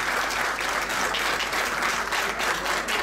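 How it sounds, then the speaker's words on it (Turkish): Steady, dense audience applause fills a ceremony marking the shared creation of the Aeneas cultural route, sustained and loud throughout with no pauses. "Biraz daha alkışı alkışlarla."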